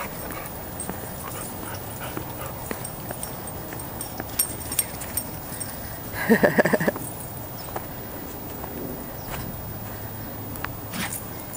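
Dogs move about in snow outdoors, with soft scattered footfalls and a short burst of whimpering or yipping midway, all fairly faint against a steady ambient hiss.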